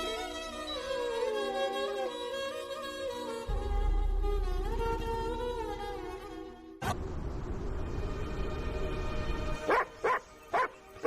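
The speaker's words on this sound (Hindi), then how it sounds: "जब देखो भौंकता ही रहता है।" A dog barks and yips in short bursts from a Hindi-dubbed South Indian movie scene, heard over a loud music score with dense tonal layers.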